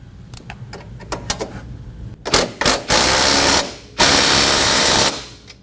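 Limit strap hardware on a Polaris RZR being tightened, a quick series of ratchet clicks followed by two sustained whirring bursts of a power tool, loud and close.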